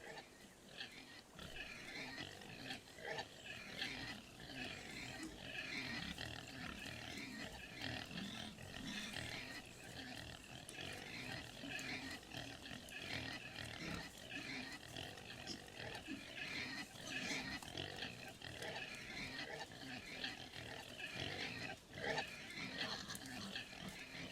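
Pigs in a livestock truck grunt and squeal constantly on a delivery run from Leipzig to Berlin. The dense, overlapping chorus carries over steady road noise for the whole stretch.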